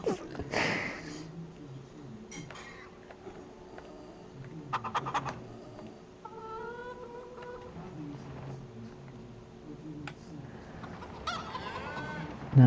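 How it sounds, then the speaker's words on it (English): Rooster clucking in the Farm Sim 25 video game on a vintage farm, a run of short clucks and calls repeated over several seconds amid steady game background noise and a faint engine hum. "Cockerel underneath."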